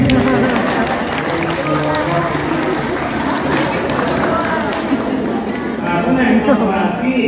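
Loud, continuous clapping from an audience at a teacher-training talk in Indonesia, sustained at an even level throughout, with voices mixed in beneath the claps.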